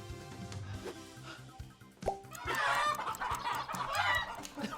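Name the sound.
chicken clucking in the video game Dead by Daylight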